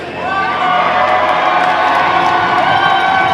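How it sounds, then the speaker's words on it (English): A loud, dense roller derby crowd roars and cheers for the Horrors, with shouts and whoops carrying steadily through an indoor arena. "It's like everybody cheered both times"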